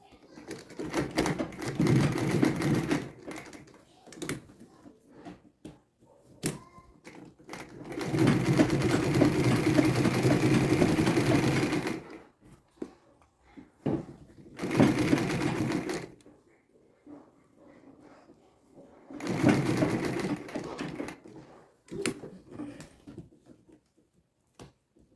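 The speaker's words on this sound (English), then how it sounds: "You make sure your sewing is on both sides with the first strap." A sewing machine runs in long bursts as it stitches the straps of a structured tote bag, with rapid, steady needle chatter broken by pauses and short starts, close and fairly loud.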